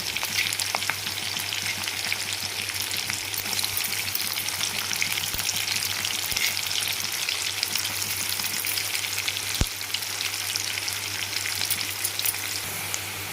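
Onions and green chillies frying in hot oil in a pan for dry fish curry, a steady dense sizzle that continues unbroken throughout, with no talk.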